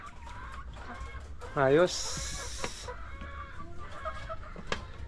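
Hens in a freshly cleaned coop bedded with new rice hulls, layers of extra-large eggs, let out one loud, sharp cluck-squawk mid-clip above a low background murmur, with a brief spoken word nearby.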